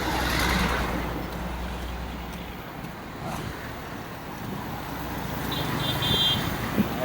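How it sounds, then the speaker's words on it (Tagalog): Heavy road traffic rumbles steadily on a congested street, with a low continuous engine drone, passing vehicles and faint wind noise throughout. "Traffic, grabe traffic."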